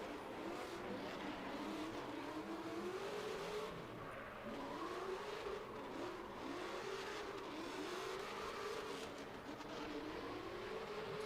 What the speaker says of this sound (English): that's just going off a sound of a car on the track